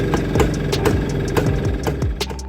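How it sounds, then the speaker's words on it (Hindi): A Rajdoot motorcycle engine, a bike inspired by the Polish SHL M11, runs alone and close up with a steady, loud, throbbing idle and rhythmic knocking pulses. "तो चलिए इस बाइक की आवाज सुनकर चलते हैं इसके जमाने में।"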